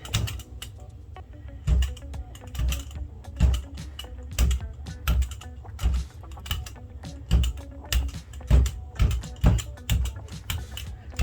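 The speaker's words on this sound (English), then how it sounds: "I'm just kind of tapping as I roll so that I can get a mixture of all those really cool colors" Brayer roller tapping and rolling across a gel printing plate over craft foam stamps, a quick irregular run of close, crisp taps and clicks with a soft rolling hum beneath, no talk.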